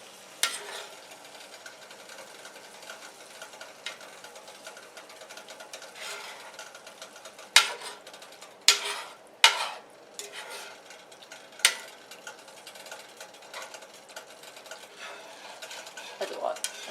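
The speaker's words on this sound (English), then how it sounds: "let's go ahead and scrape up the glaze" A spatula scrapes up glaze in a pan while making lemon chicken, a soft continuous stirring hiss broken by several sharp metallic scrapes and clinks against the pan.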